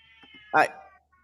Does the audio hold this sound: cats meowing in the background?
yes